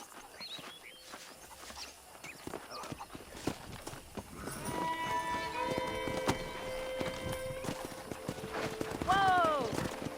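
Rhythmic hoof clops of running wild horses in Red Dead Redemption, with a horse whinny near the end and someone talking throughout.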